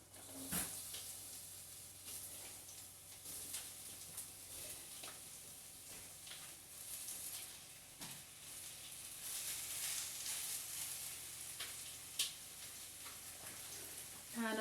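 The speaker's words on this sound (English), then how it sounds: "oil, you can hear them sizzle." Peppers sizzle steadily in hot oil in a home kitchen, a faint continuous crackling hiss that runs the whole time with a few light clatters.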